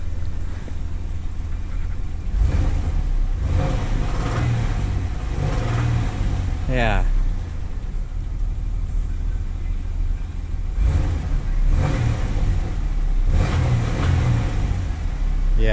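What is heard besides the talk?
Camaro 3.8L V6 engine ticking when revved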